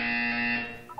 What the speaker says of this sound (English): When you hear the buzzer, look up at the ceiling.